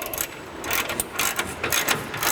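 A ratchet tightens the sliding part of a RockStar universal hitch-mounted mud flap bracket, making rapid, close, metallic clicking in short uneven bursts.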